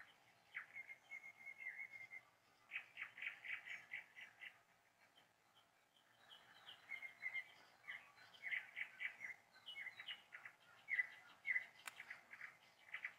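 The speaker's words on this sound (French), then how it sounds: "Et tu entends les oiseaux dans les arbres qui chantent" Several birds chirp and trill in quick repeated bursts in a forest, fairly distant and soft, against an otherwise quiet background.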